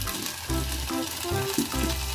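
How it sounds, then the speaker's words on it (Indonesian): Chili peppers and spices fry in oil in a pan, a loud, steady sizzle filling the whole stretch with a faint tonal hum beneath and no talk. "ini kita masukin minyak ya ke panci yang tadi untuk masak sausnya. Tumis bumbunya dulu, tumis cabenya."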